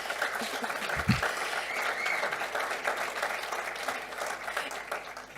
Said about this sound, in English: So just a round of applause to Jude as well